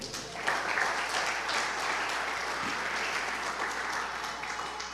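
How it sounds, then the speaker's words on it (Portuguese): A church congregation applauds during a Pentecost sermon, a soft, distant, continuous wash of clapping with a low hum beneath it. "Aplauda o Senhor."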